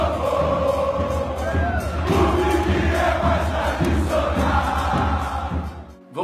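A crowd cheers and roars continuously in a football stadium setting, a dense, loud wash of voices with occasional whistles before cutting off abruptly at the end.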